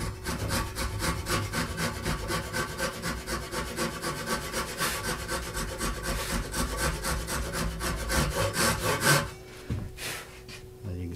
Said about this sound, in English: And then switch it over to the ripping.